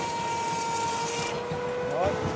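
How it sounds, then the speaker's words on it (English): An Edwardian-era mechanical saw cutting through timber on a farm, a continuous loud rasping grind with a droning mechanical tone, while people talk over it. "This is timber sawing, Edwardian style."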